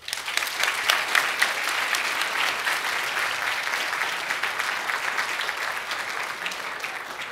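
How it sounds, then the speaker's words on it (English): Audience applause for an honoree at a university awards ceremony, a dense, even wash of clapping from a sizeable crowd sustained throughout. "I hope we can give a little round of applause or acknowledgement for everybody as we applaud Nelson"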